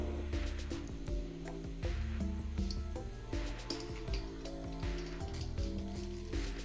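A spoon scrapes and stirs homemade tomato paste through a sieve, giving a steady run of wet squishing, clicking and ratcheting scrapes up close, with no talk.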